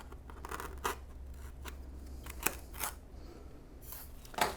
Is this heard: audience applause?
no